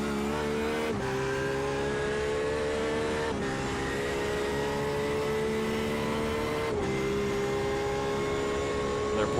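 A Porsche race car in the iRacing sim at Mosport holds a steady, loud engine drone through the whole stretch, with brief shifts in pitch that suggest gear changes.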